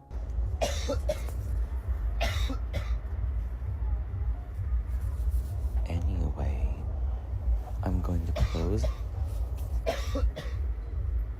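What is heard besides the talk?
cough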